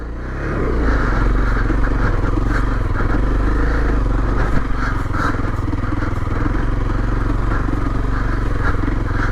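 A Honda CRF250L dual-sport motorcycle revs steadily while its rear wheel spins in snow on a wintry uphill road, a loud, close, continuous engine drone with scraping clatter and no speech.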